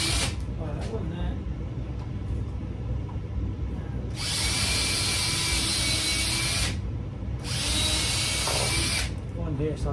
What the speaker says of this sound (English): so I'll just drill them straight through some of the blocks